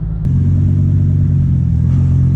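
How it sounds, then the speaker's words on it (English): A drag car engine at a drag strip, a loud deep continuous rumble that kicks in after a sharp onset and holds steady, close and dominant. "I am going against an honest to God crazy drag car. At least that's how it sounds."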